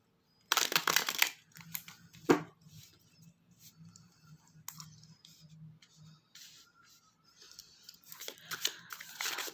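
Tarot cards are shuffled by hand in a quiet room, giving soft rustling flicks and crisp riffles that come in irregular bursts, with a sharp snap partway through and more busy shuffling toward the end.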